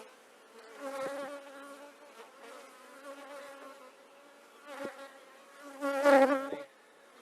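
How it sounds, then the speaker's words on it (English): Honeybees buzz during a hive inspection, with a continuous close hum that swells into louder bursts as bees fly near, rising and fading irregularly. "The bees are getting ready to swarm."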